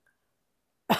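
After near silence, a single close, harsh cough bursts out at the very end.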